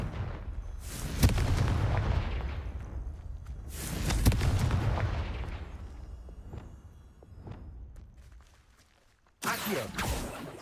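Confringo blasting spell explosions in the Hogwarts Legacy video game: two heavy booming blasts with long rumbling decays, followed by a sharp burst at the end, loud and alone.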